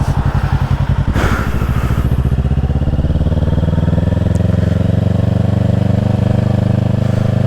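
A 2024 Kawasaki Ninja 650 runs loud and close while rolling onto a sidewalk, its steady rapid engine pulse rising slightly and then holding a rough, constant idle-like drone.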